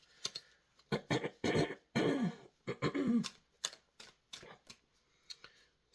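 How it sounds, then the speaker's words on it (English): Tarot cards are shuffled and drawn close by, bursts of papery riffling and flicking followed by lighter taps and slides of single cards, with no talk. "I'm going to pick one card for the present, one card for the past,"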